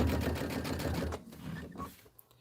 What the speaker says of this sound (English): I'm going to back stitch here a couple of times